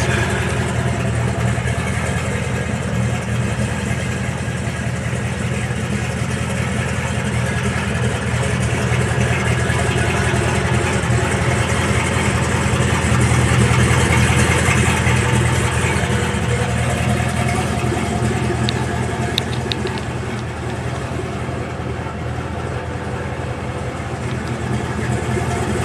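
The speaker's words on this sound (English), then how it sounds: "Supercharged LT4." A supercharged LT4 V8 in an '87 Buick Regal on 28-inch Savini wheels idles steadily and close by, a continuous low rumble that holds at one level for about twenty-five seconds before dipping slightly near the end.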